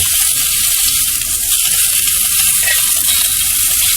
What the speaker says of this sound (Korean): 근데 이렇게 삼겹살을 굽는데